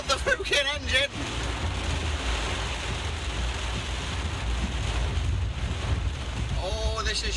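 A boat engine labors on open water, a low, rough rumble mixed with wind and splashing surf, while a voice shouts briefly at the start and again at the end.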